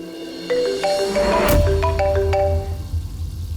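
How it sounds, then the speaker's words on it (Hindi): A melodic phone ringtone plays a short tune of bright tones over a low background rumble. "सूरज का फोन है।"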